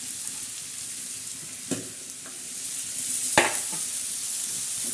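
Onion, potato, capsicum and brinjal being stir-fried on a flat iron griddle make a continuous close sizzle, broken by two or three scraping turns of the spatula.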